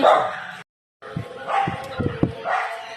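Several dogs bark in short, punchy bursts close by, with a quick cluster of barks overlapping voices of people talking nearby.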